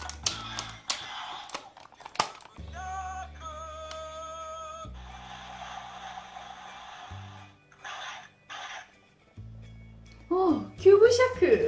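A Power Rangers Animal Force toy, the Cube Shark, plays its electronic summon sound: a short sequence of bright synthesized tones and jingles, with a voice talking briefly at the start and end.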